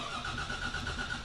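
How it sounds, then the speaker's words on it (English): A bus engine cranks and catches, settling into a mid-pitched idle with a faint periodic whine, short and moderately close. "the bus starting now"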